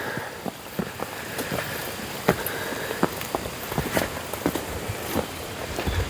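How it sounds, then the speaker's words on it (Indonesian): Rain falling at a forest home under construction, a steady hiss broken by frequent close drips and patters of varying strength, with no voices. "Hujan."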